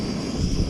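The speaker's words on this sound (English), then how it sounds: "So it looks like we got a leak on the gas stove." Gas hisses steadily from a leaking cheap camping gas stove, a brief, constant close rushing sound with no voices.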